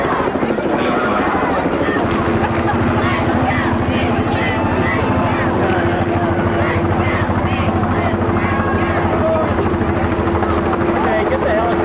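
A helicopter flying low over a 1993 high school football game between Belleville East and the ESL Flyers, its loud, steady rotor chop running unbroken throughout, with voices underneath.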